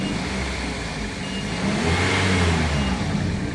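A Toyota Altis engine with a vibration problem revs loudly and continuously, the roar swelling slightly in pitch and volume midway, close by with no voices.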